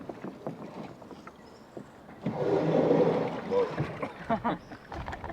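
SSL580 boat casting off at low throttle, a soft rising engine and water wash swelling mid-clip under close talk and footsteps aboard, staying quiet overall.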